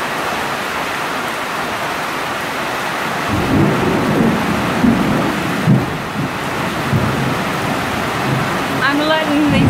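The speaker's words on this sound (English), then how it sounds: "I'm letting the thunder speak for me." Thunder rumbles through a rainstorm in Texas, a steady wash of rain giving way to deep, rolling low booms that swell in the second half and stay loud and close.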